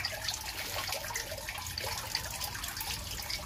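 Water steadily trickling and splashing into a red tilapia pond, a continuous close wash of flow with small droplet spatters and no talk.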